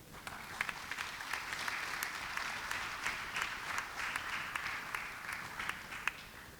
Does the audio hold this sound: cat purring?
no